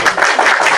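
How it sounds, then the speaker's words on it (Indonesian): An audience at an Indonesian church sermon claps hands in a brief, dense burst of overlapping claps, loud and close, lasting under a second. "Tepuk tangan untuk Tuhan."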